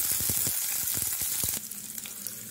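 Ground shallots hit hot oil with cumin and fenugreek, giving a loud, steady sizzle with stirring clatter near the start, then settling into a quieter, even frying hiss.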